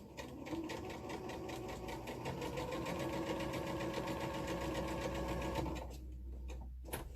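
A sewing machine stitches flying geese quilt units in one continuous, steady mechanical run, then stops abruptly near the end.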